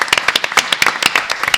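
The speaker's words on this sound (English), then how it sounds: "who I will give a round of applause, and I hope you'll join me" An audience at a talk on lived religion and spirituality applauds in a short, loud burst of close, crisp claps.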